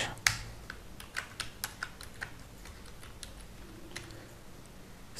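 Code typed on a computer keyboard: a quick burst of sharp, close key clicks early on, then a few scattered taps and a final louder keystroke, with no voices.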